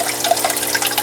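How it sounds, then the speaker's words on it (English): Water bubbling and gurgling in a DIY whirlpool aquaponic tank drain, a close, continuous burbling wash with small irregular pops, heard alone. "I was getting a bubbling effect coming up"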